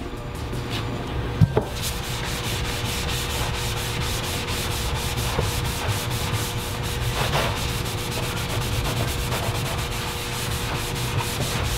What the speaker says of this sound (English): it's also buffing very easily